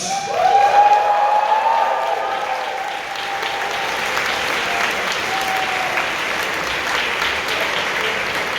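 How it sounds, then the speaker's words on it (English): Sustained applause from a convention crowd at a closing ceremony, loud at first then settling into steady clapping that continues throughout. "Please give a big round of applause for them"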